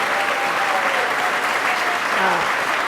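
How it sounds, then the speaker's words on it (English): A crowd at a Western New York government budget announcement gives a round of applause for the town of Hamburg, dense sustained clapping throughout, loud and even with no pauses. "Let's give a round of applause for Hamburg"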